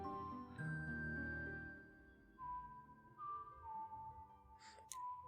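A lullaby, whistled in the video game Ocarina of Time 3D, sounds as a faint, clear melody of sustained notes over soft music, with a light chime near the end.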